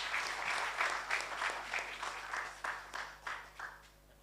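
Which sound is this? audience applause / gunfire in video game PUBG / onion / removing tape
audience applause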